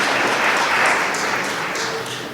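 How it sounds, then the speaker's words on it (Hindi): A church congregation claps hands together during worship, a dense continuous patter of many hands sustained at steady loudness throughout, no voices standing out. "तालियां बजाएं और उसे धन्यवाद दें।"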